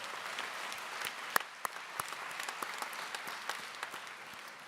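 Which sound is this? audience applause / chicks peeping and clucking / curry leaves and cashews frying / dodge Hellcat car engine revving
audience applause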